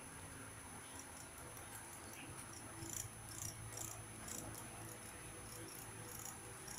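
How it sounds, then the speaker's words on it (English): Crickets chirp steadily in quick high pulses, fairly faint, against a low background hum, in a scorpion enclosure. "The crickets are very noisy."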